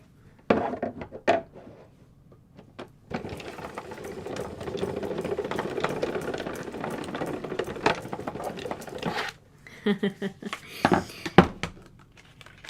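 A die-cutting machine cutting a long rectangle die for card making, a few sharp clicks, then several seconds of steady grinding rumble, then more clicks and knocks, close by with talk around it.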